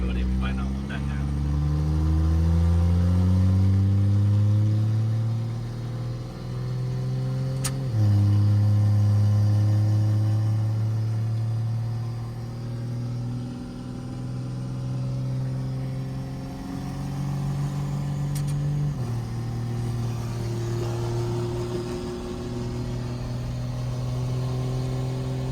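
A car with a freshly rebuilt engine is driven, its engine droning loudly close by and climbing in pitch through gears with shifts and dips in revs. People talk over the engine noise.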